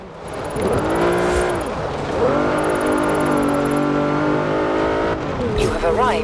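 A 2012 Jeep Wrangler Rubicon engine revs hard with rising and falling pitch while drifting in a game, loud and continuous with a brief dip near the end.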